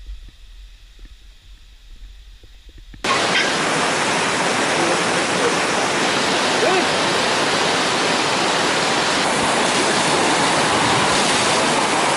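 Water rushes loudly and steadily at an elephant park river in Chiang Mai, Thailand, where elephants are rinsed off; after a few quiet seconds the broad, hissing flow starts abruptly and carries on unbroken.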